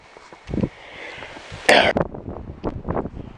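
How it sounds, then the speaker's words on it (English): Gusty outdoor wind buffets the microphone with a steady rough rumble and sharp louder bursts, rising and falling in uneven gusts. "I know the wind's picking up"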